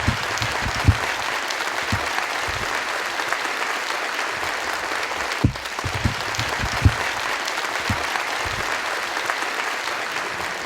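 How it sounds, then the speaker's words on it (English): A university auditorium audience gives long, sustained applause for the physicist Freeman Dyson, a steady wash of many hands with scattered louder claps and no talking. "we really do need to give him a huge round of applause for being here tonight"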